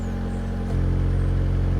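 A Mercedes-AMG A 35 engine idles in Sport Plus mode, a steady low hum that steps up slightly louder partway through, close and continuous with no talk.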